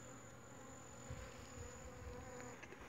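A swarm of Apis honeybees drones in a continuous, even buzz, with individual bees passing nearer now and then against a faint steady background.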